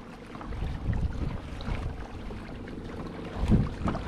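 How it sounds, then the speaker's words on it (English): Strong wind buffets the microphone out on a reef during a kayak fishing trip, a gusty rumble that swells and fades with a faint slosh of water, and nobody speaks. "There's a lot of wind out there."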